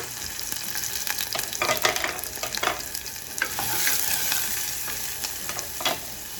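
Onions fry in olive oil in a pot for garlic rice, sizzling steadily at close range while a spoon scrapes and taps against the pot in irregular strokes.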